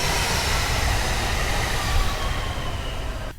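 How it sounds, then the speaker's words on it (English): A metro train passes on railroad tracks close by, a steady loud rumble of wheels and rail noise with a broad hiss running throughout and swelling slightly midway. "The train is coming."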